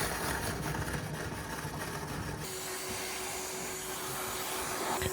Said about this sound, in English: I've got my vacuum still going